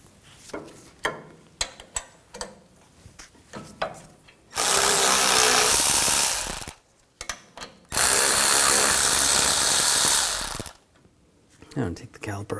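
Power impact tool or ratchet spinning out brake caliper and bracket bolts with an E18 socket on a 2007-2013 BMW X5 3.0L; two long loud bursts of whirring separated by short clicks and handling noises.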